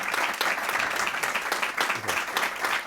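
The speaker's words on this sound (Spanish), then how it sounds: "yo creo que tanto Enrique principalmente, también Manuel se merecen un aplauso" An audience at a book presentation applauds, a close, sustained burst of many hands clapping with a few voices faintly mixed in.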